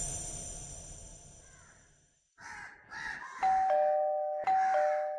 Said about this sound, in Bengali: কলিং বেলটা বেজে উঠতেই দৌড়ে গিয়ে দরজাটা খুললাম